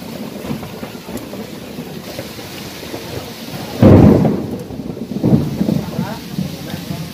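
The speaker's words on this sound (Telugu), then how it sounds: "ఇప్పుడే కొద్దిగా తగ్గింది వాన" Steady rain falls around a house while thunder breaks loudly partway through, a heavy rolling crack followed by a second, fainter rumble over the constant patter.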